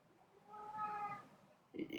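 A single drawn-out meow from a house cat, fairly close and quiet, with a brief rustle or thump just after it and no talking.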